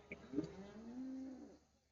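A single calf or cow at a cattle fair for Hallikar bulls and milking calves gives one long, faint, drawn-out moo, rising slightly and fading after about a second and a half.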